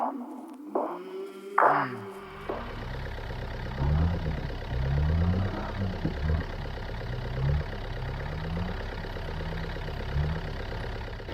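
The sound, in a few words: manual Toyota Hilux engine driving offroad over tree root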